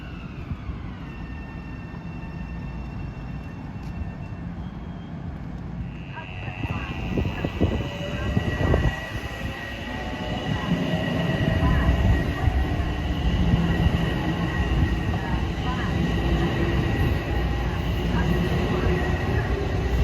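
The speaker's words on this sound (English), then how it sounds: "can hear the horn of 774 coming in from Croton-Harmon to Grand Central." A Metro-North train, number 774 from Croton-Harmon toward Grand Central, approaches a station, its horn sounding as a sustained tone before the rumble and rail noise grow louder and nearer, with background voices on the platform.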